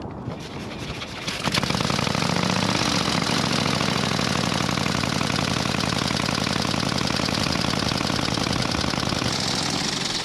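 A pre-1919 vintage motorcycle engine starts up after a brief moment and settles into a loud, steady, rapid-knocking idle that runs on close by without pause.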